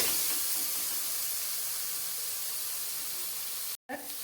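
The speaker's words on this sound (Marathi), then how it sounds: "कोथंबीर छानपैकी थोडीशी मिरची अशी भाजून घ्यायची आहे तेलामध्ये" Green chilies and coriander fry in hot oil for a pani puri filling, a steady broadband sizzle and hiss running close and even for about four seconds before a brief cut and a return.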